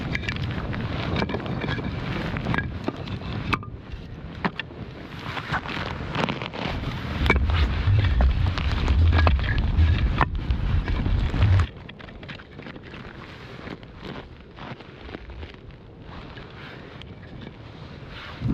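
Wind sweeping through a cold winter campsite, buffeting the microphone with a loud, steady rumble and gusts that ease somewhat partway through, with no one talking.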